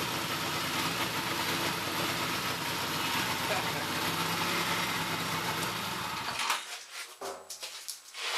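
A 1967 Honda CA77 motorcycle engine runs close by with a steady, busy buzzing drone for about six seconds, then cuts out, leaving scattered knocks and handling noise.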